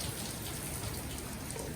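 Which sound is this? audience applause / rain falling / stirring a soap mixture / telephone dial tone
rain falling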